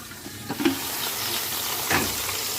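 Water running into a pot of prunes in a kitchen, a steady close rushing wash with a couple of brief knocks.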